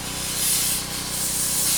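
Aerosol brake cleaner sprayed inside a motorcycle oil spinner during a Honda Grom engine rebuild, a short continuous close hiss with no talking.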